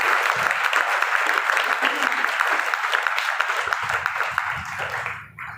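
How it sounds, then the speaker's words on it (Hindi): A church congregation bursts into loud, sustained applause for Jesus during a Sunday service, dense clapping filling the space before easing off at the very end. "आए यीशु के लिए जोरदार तालियां।"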